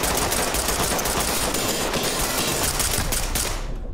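Ready or Not gameplay with a continuous, loud barrage of rapid automatic gunfire, dense and unbroken, fading only at the very end.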